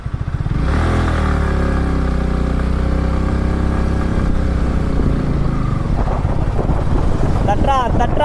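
Yamaha R15 V4 sport motorcycle riding in fifth gear, a loud steady engine drone with rising harmonics and strong wind buffeting, continuous throughout with a rougher stretch near the end.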